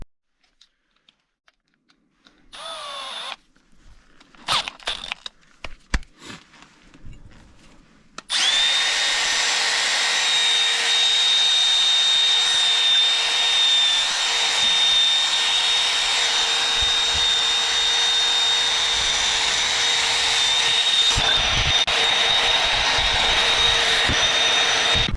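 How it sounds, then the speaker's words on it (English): Wire wheel on a power tool cleaning front brake and hub surfaces on a Nissan Pathfinder, a steady loud high whine running unbroken for most of the clip after a few short clicks and knocks at the start. "We're going to take a wire wheel and we're going to clean up these surfaces."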